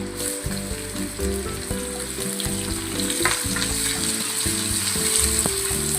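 Chopped onion frying in a pan, a steady close sizzle with a faint rhythmic mechanical rattle underneath, continuous and even throughout, no talking.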